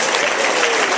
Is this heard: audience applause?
yes